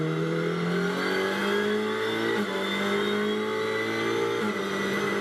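A racing car engine screams at full throttle at the 2024 FIA Motorsport Games, holding a high sustained whine with brief shifts in pitch, loud and continuous.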